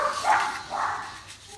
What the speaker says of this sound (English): something dog exciting is happening outside, obviously